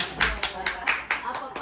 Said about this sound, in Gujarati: તાળીઓ પાડો બોડી તાળીઓ પાડો